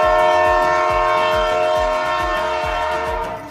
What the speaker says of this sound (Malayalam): നമ്മളെ കണ്ണൂരുകാർക്കുണ്ട് സ്വന്തമായിട്ട് ട്രെയിൻ.